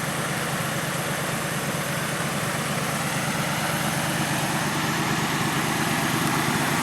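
Two AMC Javelins, junkyard cars, idle side by side in a steady, continuous engine rumble that stays close and even throughout, with no talk over it.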